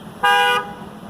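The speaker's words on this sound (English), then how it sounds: "I'm not gonna move faster just because you're honking at me." A single steady car horn honk on a street, loud and close, lasting about a third of a second against quiet background traffic hum.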